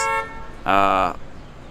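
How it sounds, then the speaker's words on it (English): A short car horn toot, then a louder, longer single honk lasting about half a second, fairly close, with quiet traffic between. "get honked at a lot"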